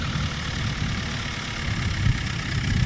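An NH Dabung 85 tractor engine rumbles continuously and loudly up close, a steady low chugging drone with no talking.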